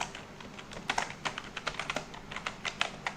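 Typing code on a computer keyboard, a quick, irregular run of soft key clicks, close and fairly quiet, with no talking.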